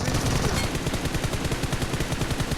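Rapid automatic gunfire in PUBG Mobile: a steady, fast stream of loud, close shots rattling on without a break over a rumbling background, with no speech.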